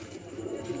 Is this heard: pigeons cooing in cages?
yes